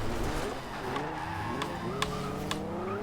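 In Forza Horizon 2, a 2014 Maserati Ghibli S revs hard as its tires spin and squeal for grip in third gear. The engine whines steadily over a continuous scrubbing screech, with a few sharp ticks.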